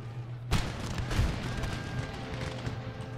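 Troops firing at mortars in an Empire Total War battle, a sudden sharp volley followed by a dense rolling crackle of musket fire and distant booms that goes on continuously.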